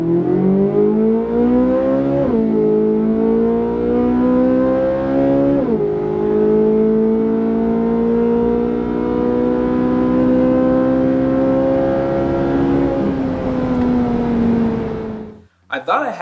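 C8 Corvette Z06 with a Tremec 8-speed transmission accelerating hard from a roll toward 140–150 mph, engine note rising steadily with quick shift drops near two and six seconds, loud and continuous throughout.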